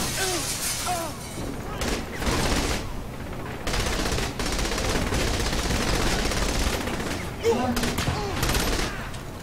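Gunfire in the video game Saints Row 3, with dense, sustained automatic bursts and crackling shots that run almost continuously, broken by brief pauses, loud and close, with a voice speaking now and then underneath.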